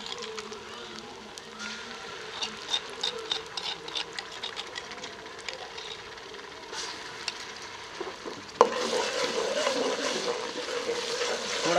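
Chopped onion with ginger garlic paste frying in a pan for a kaddu chicken curry gives a steady, close sizzle and crackle. The sizzle swells noticeably louder near the end.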